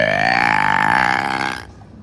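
A little kid lets out a long, loud burp lasting well over a second, close to the microphone, before it cuts off into near silence.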